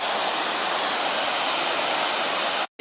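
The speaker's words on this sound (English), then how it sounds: "These little rivulets coming down the hillside" Rivulets and a waterfall run down a hillside at the Mawddach falls, producing a loud, steady, close rush of water that cuts off abruptly at the end.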